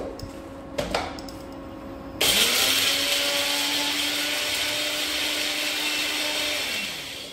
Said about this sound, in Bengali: মিক্সিতে বেটে আনবো। এটাকে পেস্ট করবো, খুব বেশি পেস্ট করবো না।